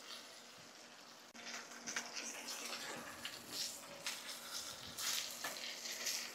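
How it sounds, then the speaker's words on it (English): A ribeye steak sears in a skillet with a steady, loud broadband sizzle that swells and crackles as the meat is pressed down, continuing throughout with no talking. "Press it down. Get that sear nice and good."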